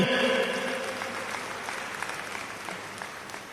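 Audience applause at a church gathering in Thrissur, steady dense clapping from a crowd that slowly fades across a few seconds, heard alone without speech.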